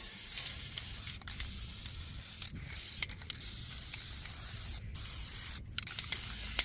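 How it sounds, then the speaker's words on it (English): Long hissing bursts of a Rust-Oleum spray paint can, steady and close, broken by a few short pauses between passes. "I use a lot more spray paint on this than you think"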